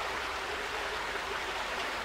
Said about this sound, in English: there's a really cool little waterfall falling all around kind of place